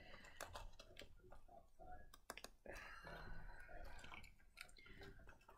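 Dense clicking and ratcheting of a tight zipper on a tote bag being worked open in short, effortful bursts, close up, with a voice speaking over it.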